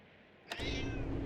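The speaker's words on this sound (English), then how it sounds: "Lux, who's a clever cat?" A cat meows once in the puzzle video game Lightmatter, a short clear call against a low hum, followed by a steady louder mechanical drone.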